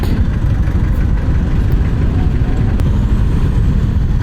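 A heavy truck engine roars steadily and loudly, a low rumbling drone of engine braking with a brief hiss of air partway through.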